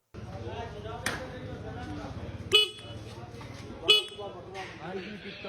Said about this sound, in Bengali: বন্ধুর দাদার আমলের বাইকটা বন্ধু চালাইতেছে।